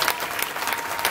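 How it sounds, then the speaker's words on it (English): A holiday camp audience claps as loud as they can, a dense, loud burst of crowd applause that stays even and continuous throughout. "I want you to clap as loud as you can if you hear it"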